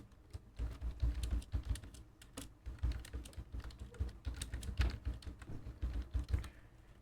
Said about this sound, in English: You can type a description.